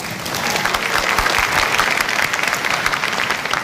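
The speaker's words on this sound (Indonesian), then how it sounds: "Boleh tepuk tangannya?" Supporters in a live audience clapping at the final 2019 Indonesian presidential and vice-presidential election debate, a loud dense burst of applause held steady for a few seconds.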